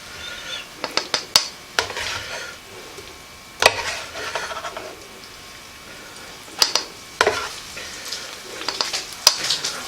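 Shrimp scampi with broccoli and egg noodles is scooped from a hot pan: soft sizzling under scattered scraping and clacking utensil strikes, bunched into bursts with quieter gaps, close by.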